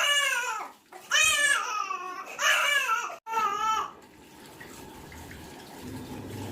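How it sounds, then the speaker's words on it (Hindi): A five-month-old baby boy cries loudly while being bathed, letting out several wailing bursts separated by short gasps. Splashing and running water continue softly after the crying stops. "उसके बाद हम इसे अब नहला रहे हैं। तो ये नहाने में बहुत रोता है।"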